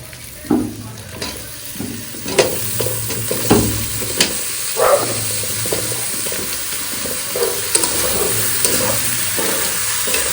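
Elephant foot yam stalks hit spiced prawns in a hot pan, sizzling and frying steadily while a spoon stirs and scrapes in repeated strokes, close and fairly loud with no talking.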